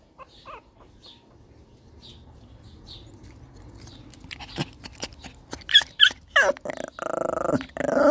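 A Shih Tzu dog growling, starting faint and distant and building into closer low growls and snarling bursts toward the end, with scattered soft chirps in the background.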